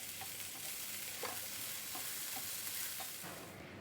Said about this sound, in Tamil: இப்போ கொஞ்சம் ரெண்டுத்தையும் சேர்த்து வதக்கிக்கலாம்